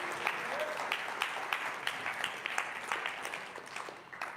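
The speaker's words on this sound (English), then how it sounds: "Applause to Jim Downer." A church audience claps for a birthday, steady moderate applause with a few sharper individual claps, fading slightly toward the end.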